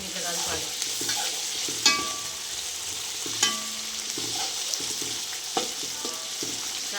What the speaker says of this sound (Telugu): వేసుకొని కలుపుకోవాలి.